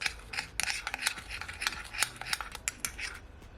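Ginger, garlic and seasoning get mixed into chicken wings for Jamaican curry, giving soft, close, irregular clinks and rubbing scrapes in quick bursts, faint and without talk.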